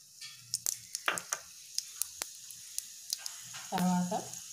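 Tempering spices crackle and sizzle in hot oil for an Andhra-style vadiyala curry. Scattered sharp pops ride over a soft hiss, ending in a short, louder tonal clatter near the close.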